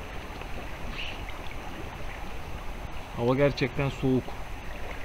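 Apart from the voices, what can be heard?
stream flowing on both sides of a camp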